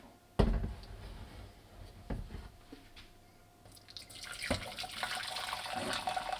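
Water runs from a tap into a cooking pot, one and a half litres poured while preparing a budget dinner with tomato sauce; an initial clatter, then a steady rushing stream that grows louder and fuller near the end, with no voices.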